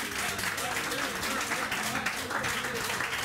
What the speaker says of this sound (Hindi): इनके लिए तालियां तो बजाएं